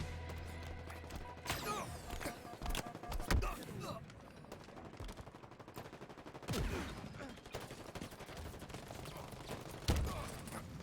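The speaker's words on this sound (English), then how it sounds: "Fuck, that's a grenade." Grenade blast and bursts of gunfire in a Halo multiplayer capture-the-flag match, with several sharp explosive impacts and rapid shots over game music and announcer callouts, loud and close throughout.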